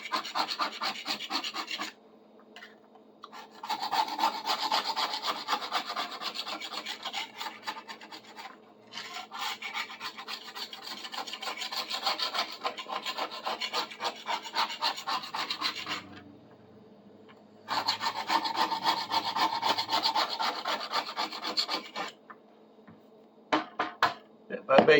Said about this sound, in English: Scrape her down.